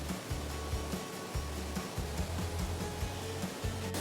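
Shypit waterfall in the Carpathians near Pylypets roars as a steady, dense broadband wash of falling water, heard close and continuous with a low rumbling undertone and no talking.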